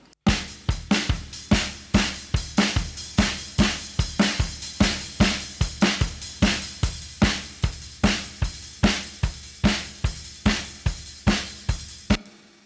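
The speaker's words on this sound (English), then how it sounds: "So the drums basically sound like this on their own." A processed drum track for a cover song, with steady, punchy kick and snare hits at an even tempo and an echoed hi-hat ticking in sixteenths, alone and close until it stops.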